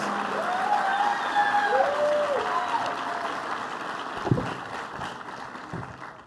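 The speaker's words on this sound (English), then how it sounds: "please a round of applause for our student speakers, Clarabelle and Katie, for their performances" Audience applause at a university recognition ceremony for two student speakers, a steady wash of clapping with a voice-like tonal sound over it early on and a few louder knocks later, fading gradually.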